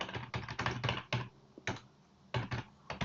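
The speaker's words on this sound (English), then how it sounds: "So if I just type in Business Central" Fingers tap on a computer keyboard in quick clusters of keystrokes broken by brief pauses, close and fairly quiet, with no voices.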